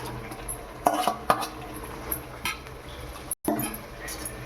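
Marinated chicken curry is sautéed in a pan for chicken biryani. A spoon stirs and scrapes against the metal pan in short clinks and knocks over a faint sizzle, with a brief silent gap partway through.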